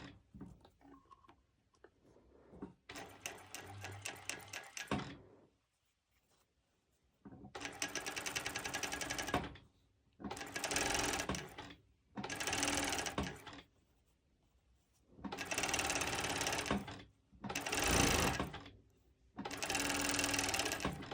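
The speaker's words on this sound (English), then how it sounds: "So I go ahead and I'm just doing a cover stitch." A sewing machine runs a cover stitch on sporty mesh fabric in about six loud, steady mechanical bursts, each separated by a short pause.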